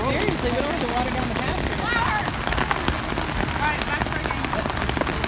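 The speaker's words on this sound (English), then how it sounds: "Pouring rain." Heavy rain pours down steadily, drumming on surfaces close by, with people talking and calling out over the downpour.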